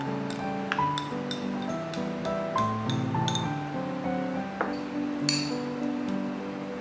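A utensil clinks repeatedly against a big bowl while prawn mixture and pasta are stirred together, a run of bright, ringing taps at an uneven pace, close and clear, with no talking.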